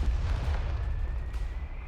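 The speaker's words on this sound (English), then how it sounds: "Indian artillery is interesting. I love the audio on it." Artillery fire from Indian units in the video game Company of Heroes 3, a continuous low rumbling boom of distant shelling that rolls on without a break.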